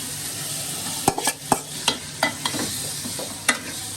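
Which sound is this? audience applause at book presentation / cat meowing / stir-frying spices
stir-frying spices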